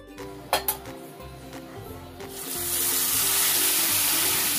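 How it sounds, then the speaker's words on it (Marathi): Hot mustard seed and garlic tempering is poured onto vegetables: a couple of sharp clinks, then a loud, steady sizzle swells and holds over a background hum. "त्यानंतर ही खमंग फोडणी जी आहे ही आपल्याला आपल्या भाजीवर द्यायची आहे"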